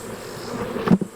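Honey bees drone steadily around an opened, queenless hive with no brood that is probably being robbed, a close, continuous buzz that swells briefly near the end.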